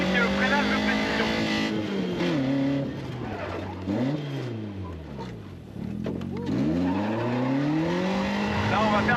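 A car on a gymkhana course runs a precision-braking exercise, its loud, close engine note dropping sharply under braking, then climbing again as it accelerates away, with repeated swoops in revs.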